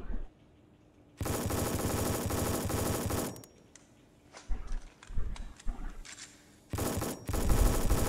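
Rapid automatic gunfire in the multiplayer shooter video game REC.O.R.D comes in two loud sustained bursts, separated by a quieter stretch of scattered shots and clatter.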